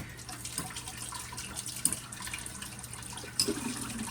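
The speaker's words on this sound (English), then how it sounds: "Now what I'm going to do is I'm going to rinse this and this right quick." Strainer and utensils rinsed under a running kitchen tap while making sunflower jelly, a steady close water flow with a few splashy clatters.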